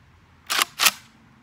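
Two quick sharp shots from a JTS M12 AK airsoft rifle, close and crisp, spaced about a third of a second apart against near silence.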